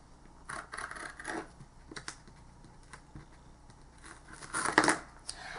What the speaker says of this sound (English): And cut this in half.